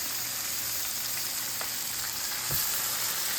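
Pear slices sizzle steadily as they are laid into a hot frying pan over medium heat, a continuous close hiss with a few soft clicks and a brief thump of fruit landing near the end.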